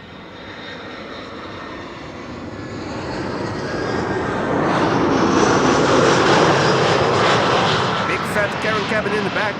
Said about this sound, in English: Lufthansa flight 2302 arriving from Munich, A319.